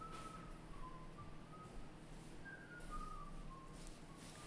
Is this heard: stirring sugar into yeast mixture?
no